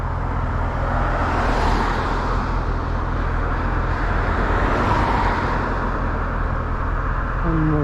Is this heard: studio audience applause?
no